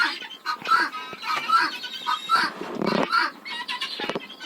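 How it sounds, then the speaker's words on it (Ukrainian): Hens cluck and murmur in a barn as they settle on hay in the evening, with several overlapping nearby calls in an irregular rhythm and a person's voice faintly present. "Вон моя курочка хорошенька. На сіні сидить."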